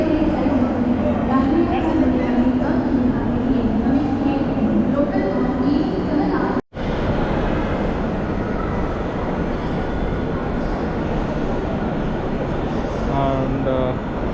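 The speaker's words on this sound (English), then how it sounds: "the Mumbai Suburban train, the lifeline of Bombay." A Mumbai suburban train rumbles and clatters past continuously, loud and close, with a brief break midway and voices talking over the noise.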